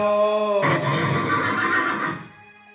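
A horse gives a long, loud whinny with a tonal opening that breaks into a rough, shaking neigh and fades at the end, heard on its own with no talk.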